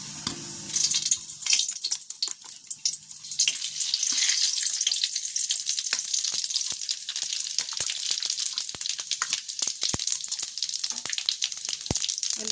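Whole spices for a phoron sizzle and crackle in hot oil in a wok, a dense steady frying hiss with scattered sharp pops and a few faint clinks, and no voices.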